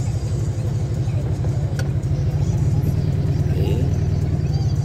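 A car idles and passes at a toll booth, a steady low engine rumble with a mild revving swell, close and continuous, with faint background voices.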